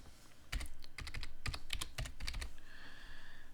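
A password is typed on a computer keyboard in a series of quick, close key clicks with uneven rhythm over a low hum, ending in a faint tonal whine.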